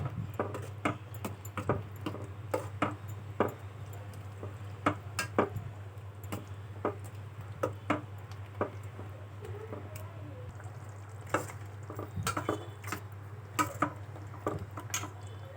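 Repeated scraping and wet squishing of a spoon stirring thick chicken masala in a pan, steady irregular clinks over a constant low hum.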